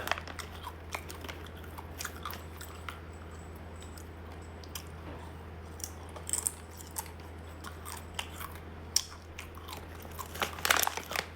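Crunchy fried durian chips are bitten and chewed close up, with repeated crisp crunches and crackles over about eleven seconds and no talking.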